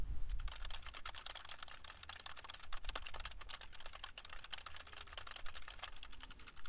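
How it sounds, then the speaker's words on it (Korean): Rapid, continuous clicking of a computer keyboard mixed with mouse button clicks, picked up close by a Razer Kaira X PlayStation headset microphone, a steady busy clatter with no voices. "키보드와 마우스 버튼 클릭 소리입니다."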